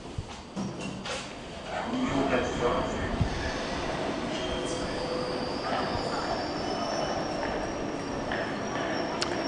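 A funicular railway car in Luxembourg rumbles along steadily with faint metallic wheel squeals and clatter, heard at moderate distance under a constant mechanical drone.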